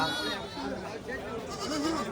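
Young goat kids bleat repeatedly in wavering, high calls at the Muthur goat market in Tiruppur, Tamil Nadu, with people talking over the busy crowd noise.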